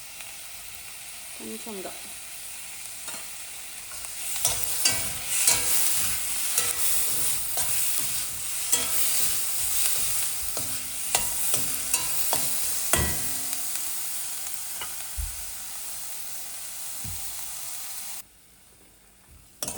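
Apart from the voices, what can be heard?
tomatoes cooking in oil in a pan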